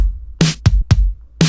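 A pop rock drum pattern plays a hard, booming kick and layered snares including a lo-fi style snare, with four loud, close hits in quick uneven succession and nothing else heard.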